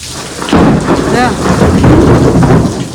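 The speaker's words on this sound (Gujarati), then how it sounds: "ગાજ વીજ સાથે વરસાદ છે" A loud rumble of thunder rolls in over heavy rain, sustained and close.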